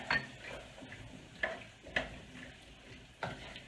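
A spoon stirring flour into clam chowder in a pot, with a few sharp scraping clinks against the metal spaced irregularly over a soft, quiet background.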